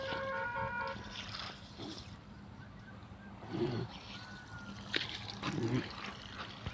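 Quiet splashing and trickling water, spurting in small bursts, with a faint tonal hum in the background.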